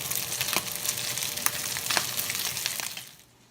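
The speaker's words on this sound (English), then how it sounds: "now I'm going to fry some of it up and get it kind of crispy" Shredded pork crisping in a hot pan, a close, steady sizzle with crackling pops and bursts, which fades away abruptly near the end.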